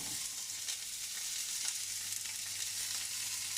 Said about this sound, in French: Donc là ça chauffe, donc du coup on va mettre les oignons